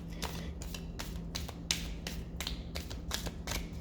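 A deck of tarot cards is shuffled by hand, heard as a quiet series of about eight soft, crisp slaps and riffles at an uneven rhythm over a faint background hum.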